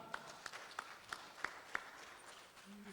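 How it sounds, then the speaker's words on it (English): Conference audience clapping, heard as six evenly spaced, faint claps in the first two seconds, then fading into quiet room tone. "Let's give him a hearty clap."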